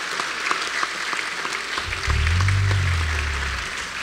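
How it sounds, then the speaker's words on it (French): Applause from the audience at a church history day gathering, a dense, steady patter of many hands filling the room for several seconds with no one talking over it. "On peut l'applaudir."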